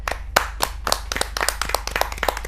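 An audience at a Hindi kavi sammelan claps hard and loudly to welcome a poet. The claps are close, sharp and irregular, with a low steady hum underneath.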